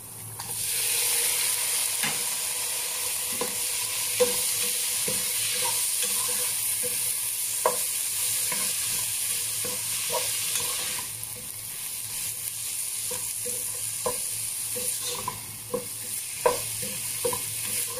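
Pork belly sautéing in a pan, a steady frying sizzle with frequent stirring clinks and scrapes throughout, close and fairly loud, no voices.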